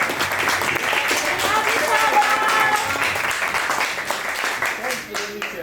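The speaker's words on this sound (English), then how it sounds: "Another round of applause for her, please." Audience at an open mic session applauding and cheering, a sustained wash of many clapping hands lasting several seconds before tapering off near the end.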